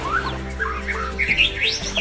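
Oxpecker calling from a rhino's back in the African wild, a run of bright, high chirps and tweets rising and falling over a steady low background hum, fairly close and continuous.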